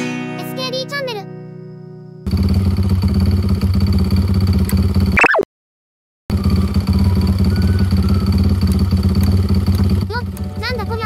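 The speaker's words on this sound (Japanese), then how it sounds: "キーをオフにしてもエンジンが止まらん。" Honda Gorilla motorcycle engine idling steadily with a fault that keeps it running after the key is switched off; a continuous close putter lasts several seconds, briefly cut off, then resumes, with someone talking over it.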